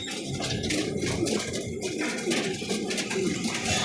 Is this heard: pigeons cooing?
yes